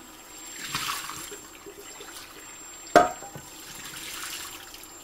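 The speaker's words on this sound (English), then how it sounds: "Let's hit it with some water and see if it comes out" Water runs from a tap over a burnt frying pan, a soft steady trickle and splash with one sharp clatter midway as the pan shifts under the stream.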